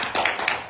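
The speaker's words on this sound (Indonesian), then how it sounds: "Tepuk tangan sekali lagi buat kawan kita" Audience applause at a gathering of demonstrators from Pati received at the KPK in Jakarta: a short burst of dense clapping from many hands, fairly close and steady, with a few sharper claps standing out.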